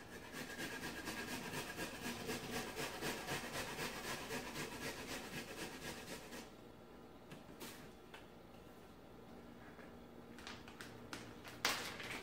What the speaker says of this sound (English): And then we need about a teaspoon of ginger. And I'm going to go ahead and grate this one.